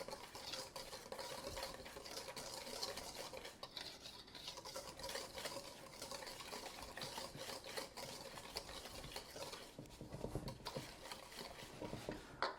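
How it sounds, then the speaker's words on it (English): Dry ingredients for banana nut raisin bread are whisked briskly in a bowl, producing a steady, close, soft scraping and rustling rhythm that continues throughout without any talking. "I'm going to go ahead and give the dry ingredients a little whisk together to get all of that incorporated into there."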